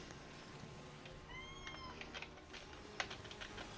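Hungry pet cat named Arthas letting out a drawn-out, rising meow followed by a shorter one, nearby but soft, with keyboard clicks tapping around it.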